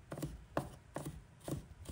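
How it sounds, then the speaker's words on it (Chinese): Garlic minced with a knife on a board, a quiet series of five evenly spaced chopping thuds about half a second apart, close and alone with no talking. "再剁成细碎的蒜末"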